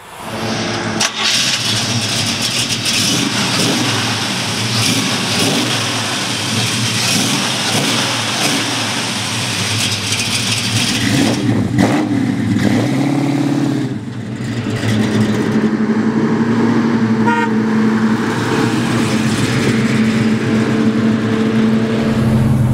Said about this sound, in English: ready to go for a ride in this beautiful 70 El Camino, big block 4-speed.